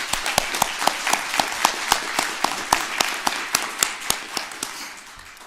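At a mayor's press conference honoring grant awardees, a small group claps in a sparse, rhythmic pattern of distinct near hand claps that gradually fades out.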